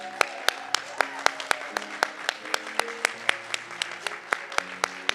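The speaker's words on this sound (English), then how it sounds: "And one more round of applause for these wonderful performers" A small audience claps for performers at the close of a show, the individual hand claps sparse and distinct at a fairly steady rhythm, with tonal sounds and voices lingering underneath.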